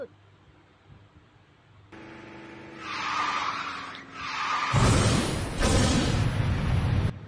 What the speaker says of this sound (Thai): CWW Boost คือการใช้ไนโตร ก่อนที่จะใช้ Double Boost โดยจะใช้ก่อนดริฟต์และหลังจากที่ดริฟต์เพื่อเร่งความเร็วสูงสุด